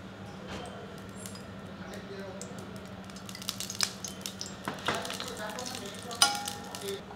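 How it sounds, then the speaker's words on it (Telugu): Oil heating in a pan for sabudana khichdi gives a steady low sizzle throughout, with scattered clinks and stirring scrapes growing busier toward the end and a sharper clatter near the close; a voice talks faintly underneath. "కొద్దిగా నూనె వేడి చేసుకుందాం."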